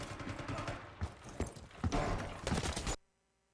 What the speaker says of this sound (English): You can clearly hear the footsteps there.